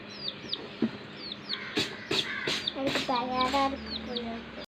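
A chicken chick gives repeated high, short peeping chirps, joined by a run of louder clucks in the second half, close to the listener.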